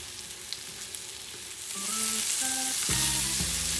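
Peppered scallops sear in a hot pan with a steady sizzle that swells louder about halfway through, while a few brief tonal beeps sound over it near the end; no voices.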